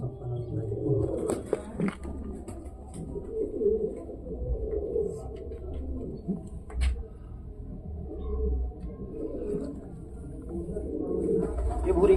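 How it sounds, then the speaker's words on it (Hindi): Soft, low coos of breeding pigeons repeat throughout against a busy background, with a person talking in Hindi nearby and occasional clicks and rustles. "सारे ब्रीडिंग वाले कबूतर हैं ये।"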